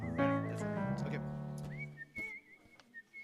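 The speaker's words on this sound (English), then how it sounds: "What a beautiful whistle." A person whistles a melodic tune during a Sunday church service, a clear wavering line that starts near and strong with music underneath, then thins to a softer, higher whistle over quieter accompaniment.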